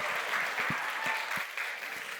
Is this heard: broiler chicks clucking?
no